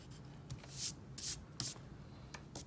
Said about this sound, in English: We're just gonna take our eraser and erase that bottom line.